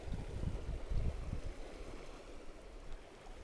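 Creek water ripping and roaring past a deep hole, a steady, moderately faint rushing with low gurgling pulses in the first second and a half.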